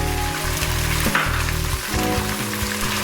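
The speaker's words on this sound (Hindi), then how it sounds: "और मैं चिकन को अदरक लहसुन के साथ थोड़ा सा फ्राई कर लूँगी।" Chicken pieces frying with ginger and garlic in hot oil for chow mein, a loud, steady, close sizzle with crackles, over a low constant hum.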